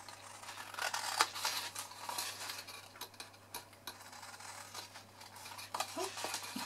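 Scissors cutting through the bottom sections of a paper gift box, a series of close, soft snips and paper rustles over a quiet background.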